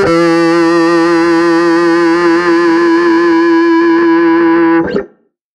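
A distorted electric guitar plays a sustained blues-scale note or chord with heavy effects, loud and bright with a wavering vibrato-like shimmer, held for nearly five seconds before cutting off abruptly.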